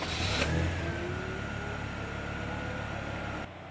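Engine of a GAZelle van turning over on remote autostart, a loud rev at the start that settles into a steady running drone, then drops quieter near the end.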